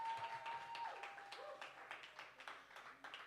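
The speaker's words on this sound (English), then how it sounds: "You're still clapping" A slam poetry audience keeps applauding after a performance, a faint, distant wash of scattered clapping that carries on steadily with a brief tone and murmurs over it.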